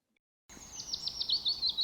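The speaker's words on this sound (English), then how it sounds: "Bird noises." After a moment of silence, a bird gives a quick series of high, thin chirps, about half a dozen short notes in a brisk, even rhythm, fairly faint and with no one talking.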